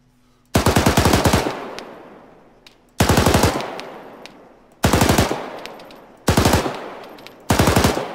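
Machine gun fire in the video game ARMA 3 during a large NATO versus Russia battle on Altis: five loud, close bursts of rapid automatic shots, each about a second long, separated by short pauses with faint background noise.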